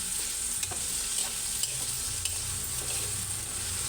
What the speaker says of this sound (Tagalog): Isunod natin yung carrots na iprito.